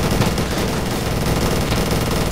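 Dense, loud automatic gunfire from the vehicular combat game Death Skid Marks, a continuous rapid rattle of bullets filling the whole stretch without pause.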